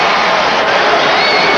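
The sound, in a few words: basketball arena crowd reacting to a foul call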